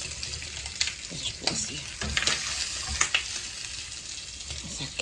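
Meat sizzles and fries steadily in a pan with zucchini, close up, with intermittent stirring scrapes and clinks over the continuous crackle.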